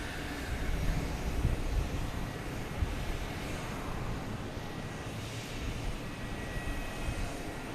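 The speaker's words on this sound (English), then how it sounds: "Now we have JetBlue coming in from Pittsburgh." JetBlue airliner arriving from Pittsburgh at Boston Logan Airport, its engines a steady, moderately distant broadband roar that holds evenly throughout without any voices.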